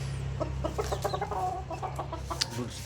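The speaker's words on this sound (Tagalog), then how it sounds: "Yan ang ating bullstag." A four-month-old McLean bullstag gamecock clucks in short repeated bursts over a steady low hum, close by, with faint chicks or other fowl around.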